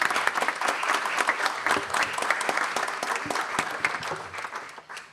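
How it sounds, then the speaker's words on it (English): Audience applause fills a conference hall at a business event on AI, a steady wash of many hands clapping for several seconds before tapering off slightly near the end. "Can we give them a big round of applause?"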